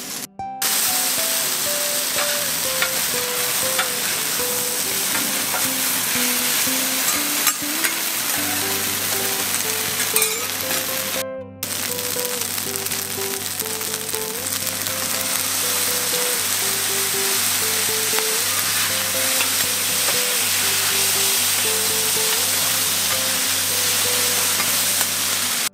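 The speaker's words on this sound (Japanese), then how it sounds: "焼きうどんのその焼いてるところカリカリになってるのがいいよね。" Yaki udon frying crisp on a hot griddle, a steady dense sizzle running throughout at close range, with background music playing underneath and no talk.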